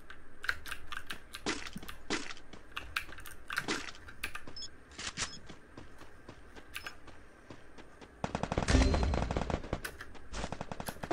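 Rapid gunfire in the video game Free Fire, repeated sharp bursts throughout with a dense heavy volley around the middle, mixed with clicky keyboard-like tapping.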